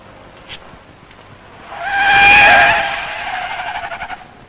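A Citroen car brakes hard during a brake test, its tyres letting out a loud, rising squeal that swells over about two seconds and then tapers off with a fluttering tail.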